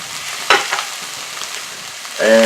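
Garlic hits a hot pan for spicy tortilla soup, starting with a quiet crackle and scattered pops, then a loud, close sizzle that bursts in near the end and keeps building.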